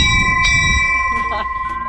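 A bell rings repeatedly in short bright strikes with lingering tones, set against a busy outdoor background in Greece with people talking nearby.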